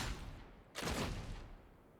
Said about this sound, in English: We're basically loading up a fire breath round. And as you can see there, just the hip fire.